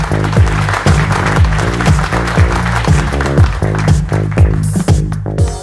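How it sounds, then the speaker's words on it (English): An awards ceremony audience applauds loudly and steadily, a dense wash of clapping that carries on through the whole stretch over rhythmic background music. "Please keep that applause going for teacher and social innovator from Alwar, Rajasthan, Imran Khan."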